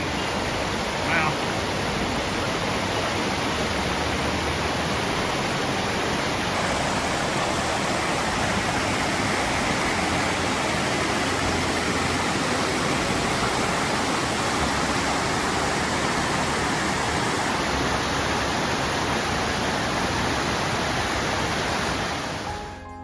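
A brook flows beside a trail shelter on the Appalachian Trail, giving a steady, dense rush of water that stays unchanged and fairly loud for the whole stretch, with no clear speech.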